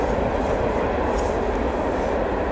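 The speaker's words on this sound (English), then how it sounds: "train in the distance." A train passing at a distance through a snowy outdoor setting, a steady low rumble and roar that holds evenly for the whole stretch with no voices.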